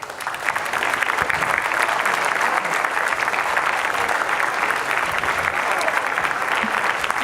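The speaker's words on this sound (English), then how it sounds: "let's give our parents, grandparents, and guardians a big round of applause" An audience at a school awards ceremony gives a big round of applause for parents, grandparents and guardians, dense, steady clapping from a large crowd that continues unbroken throughout.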